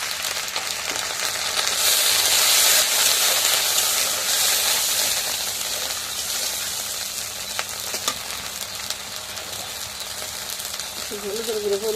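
A splash of water hits a pan of frying fish and taro stolon curry, lifting the sizzle into a louder, bright hiss that swells early and then settles into a steady crackling simmer.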